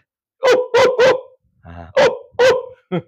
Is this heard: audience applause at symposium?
no